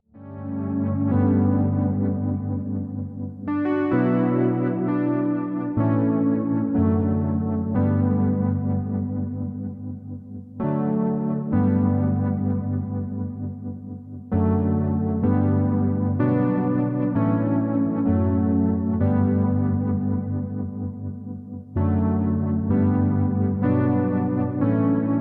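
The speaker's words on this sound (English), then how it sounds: "Anyone will tell you that the Juno 106's chorus has a magical sound" A Roland Juno-106 synthesizer plays sustained, shimmering chords through its chorus effect, full and loud, shifting between held chord changes with no voices.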